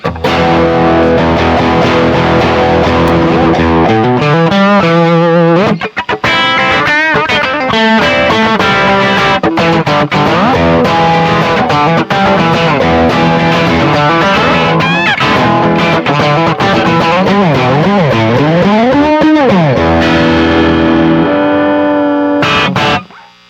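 An electric guitar with a Strat neck bolted to a Les Paul body, run through overdrive, plays loud, gritty riffs with sliding bends and ringing chords for over twenty seconds, then stops abruptly.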